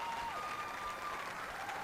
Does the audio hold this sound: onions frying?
no